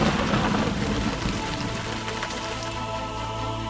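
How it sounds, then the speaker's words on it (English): Rain falls steadily in the video game Ultima IX: Ascension, a loud, dense, even hiss of drops with no talking. "every one of these raindrops is in fact a true tracked drop that falls from the sky and lands wherever it might land in the world"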